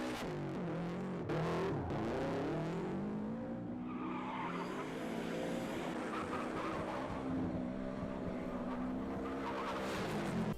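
Ken Block's rally car flicked into a big drift, engine roaring loudly with sustained tire squeal and skidding throughout, close and continuous with no talk.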